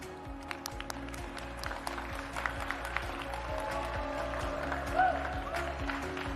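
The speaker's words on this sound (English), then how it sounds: "Please give a round of applause to the second team." Audience applause for a pitch team walking on stage at a startup competition finale, scattered claps over a steady beat of walk-on music that runs throughout and swells slightly near the end.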